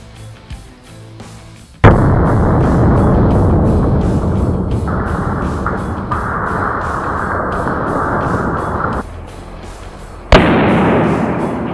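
Cidasoft airsoft grenade detonating inside a garage: a sudden sharp burst followed by a long loud hissing spray of BBs, a brief drop, then another abrupt blast near the end.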